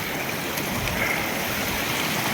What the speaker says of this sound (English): I'm trying to speak loud because obviously this water is loud.